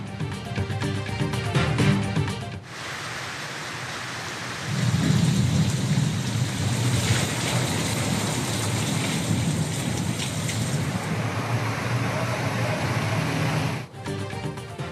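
Steady heavy rain pours during a storm in Punjab, with deep thunder rumbling through it; loud and continuous with no voices, broken only by a brief pause near the start and again near the end.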